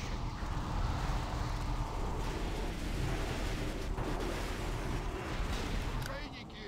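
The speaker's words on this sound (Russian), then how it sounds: "Корабль под обстрелом!" Cannon fire pounds aboard a ship during a raid battle in an online fantasy game, a dense continuous rumble of blasts and explosions lasting throughout, loud and close with faint voices underneath.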